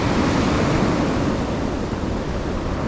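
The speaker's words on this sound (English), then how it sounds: "the waves lift up and just come over" Violent ocean waves surging against rocks, a loud, continuous roar of surf and spray with no pauses, close by and heard alone without voices.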